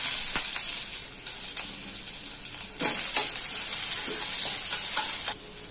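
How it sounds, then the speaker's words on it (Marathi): Onion sizzling in about a spoonful of hot oil in a kadhai, a steady loud frying hiss with occasional stirring scrapes and a brief louder burst near the end. "तेल गरम झालं की आपण फोडणीला कांदा टाकूया।"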